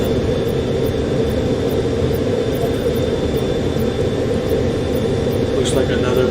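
A jet aircraft roars in a steady, loud, continuous broadband rush in Call of Duty: Black Ops Cold War multiplayer, with a brief voice near the end.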